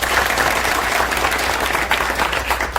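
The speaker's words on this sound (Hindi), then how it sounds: "एक बार जोरदार ताली से इनका स्वागत" Crowd at a Bihar gathering clapping loudly to welcome Prashant Kishor, a dense, steady roar of applause from many hands held throughout.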